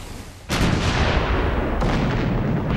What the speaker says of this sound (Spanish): El Emden se acerca aún más y luego dispara 125 cañonazos.